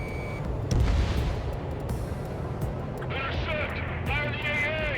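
Air-to-air missile launch and explosion in Ace Combat 7, a rumbling blast near the start inside dense combat noise, followed by warbling warning tones while radio voices talk.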